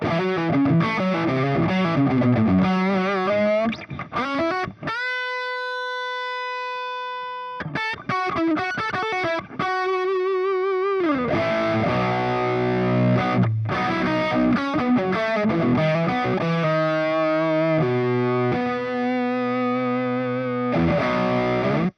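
Electric guitar played through a Singularity Tangie amp on its distorted, thinner-bodied Little Horror channel, with loud, saturated chords and sustained single notes ringing with thick harmonics, and a brief clean held tone in the middle.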